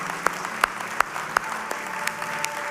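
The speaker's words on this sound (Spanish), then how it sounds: "le da un fuerte aplauso al Señor nuevamente" A church congregation applauds during a worship service, heard as sparse, separate sharp claps spaced roughly evenly over a steady room murmur, moderately faint and with no continuous roar of applause.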